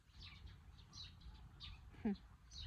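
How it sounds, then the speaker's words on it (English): Several small birds chirp and tweet in short, scattered calls around an ordinary outdoor setting, fairly faint, with one brief louder note near the end over low background noise. "All the birds are just so beautiful. They're hovering all over me."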